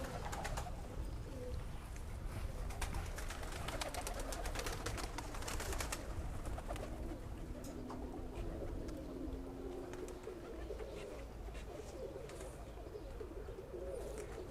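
Tippler pigeons, a flying competition breed, coo steadily as they leave the loft, a soft continuous murmur of birds close by under outdoor background noise with no talking.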